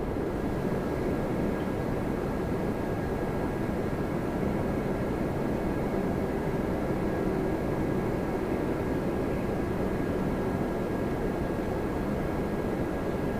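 A narrow-body airliner landing at Toronto Pearson gives a steady, moderately distant jet roar with a faint high whine, holding even and unbroken throughout with no voices.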